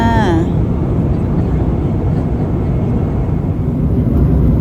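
Steady loud roar of a Wings airliner cabin in flight, a dense broadband rush throughout, with a brief descending whistle-like tone at the very start.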